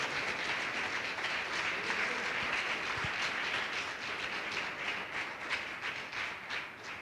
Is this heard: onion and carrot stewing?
no